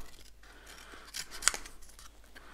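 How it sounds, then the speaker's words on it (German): Small nail scissors cutting paper egg shapes for an Easter craft card, quiet crisp snips with one sharper cut near the middle over a faint room background. "Ich habe hier tatsächlich so eine Nagelschere."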